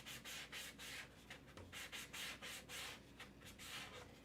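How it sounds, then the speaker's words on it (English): Plastic Starbucks cold cup being scrubbed with 400 grit sandpaper, steady close rhythmic rasping strokes in quick back-and-forth bursts, with no talking. "I'm prepping the Starbucks cup with 400 grit sandpaper, paying extra attention to this bottom portion."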